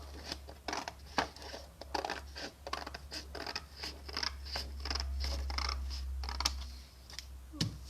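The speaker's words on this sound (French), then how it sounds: "je prends mes grands ciseaux" Large scissors cut through paper for a pop-up card, a series of crisp, close snipping strokes in an uneven rhythm over a faint low hum.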